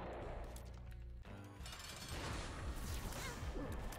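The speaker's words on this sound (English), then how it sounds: "I lost everything because of these stupid bombs" Bombs going off in The Binding of Isaac, a loud, dense stretch of game explosions and crashing effects layered over continuous background game music.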